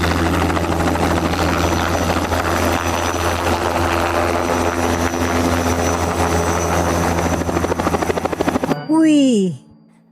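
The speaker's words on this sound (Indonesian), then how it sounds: "Ada helikopter." A helicopter makes a loud, steady whirring buzz that ends in a sharp descending whine before cutting off.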